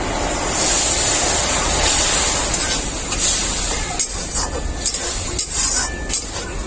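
Water hits a pan of frying spices, chalta (elephant apple) and ash gourd, producing a loud, steady sizzling hiss that continues throughout.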